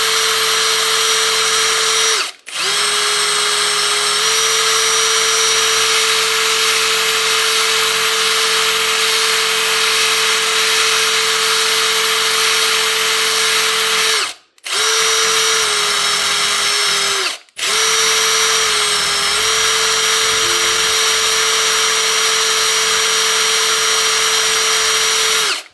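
An impact driver spins a sanding attachment against a knife blade, giving a loud, close, sustained motor whine that runs for long stretches and cuts off briefly twice before starting again.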